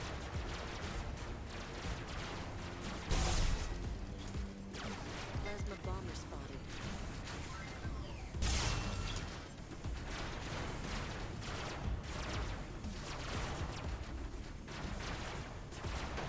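Robots in Robocraft fire weapons in rapid bursts, and two louder blasts stand out against constant battle noise and a talking voice.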